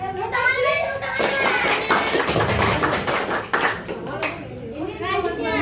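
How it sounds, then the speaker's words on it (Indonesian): An audience at an anti-bullying talk claps in a burst of scattered hand claps lasting a few seconds. Voices speak before and after the clapping. "Tepuk tangan deh, tepuk tangan."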